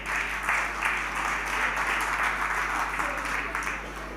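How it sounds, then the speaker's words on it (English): A hall audience at a provincial sports awards ceremony applauds steadily, a dense wash of clapping that holds at an even level for several seconds, with faint murmuring underneath. "A round of applause."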